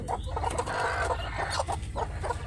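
Several hens set on clutches of about fifteen eggs each give soft, continuous clucking and low murmurs, close and steady throughout with no voices.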